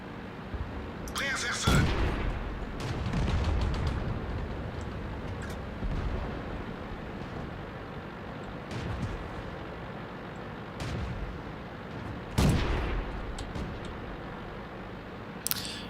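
A tank cannon fires in World of Tanks, with two loud, sharp booming shots several seconds apart and smaller thuds and clanks between them over a low battlefield rumble.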